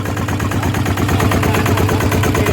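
A diesel tractor engine idles steadily up close, a low rumbling chug with a rhythmic knock and no voices over it.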